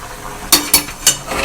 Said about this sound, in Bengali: এবার আমি ভালো করে মিশিয়ে নেব সব কিছু সব উপকরণ একসঙ্গে